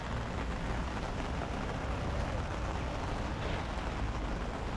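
Heavy rain falls steadily in downtown Laguna Beach, California, during a flood warning, a close, dense, continuous patter and hiss with no talking.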